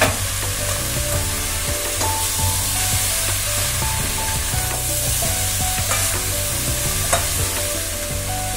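Pakoras stirred into a pan of cauliflower-potato masala sizzle and fry steadily, with a spoon scraping and turning the mix now and then in a close, continuous hiss without any talk.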